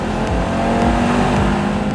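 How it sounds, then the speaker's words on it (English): A 2023 Audi RS3 with its inline 5-cylinder engine and sport exhaust runs loud and close, a steady throaty drone with slight pulsing, no voices over it. "The 5-cylinder creates an unmistakable tone."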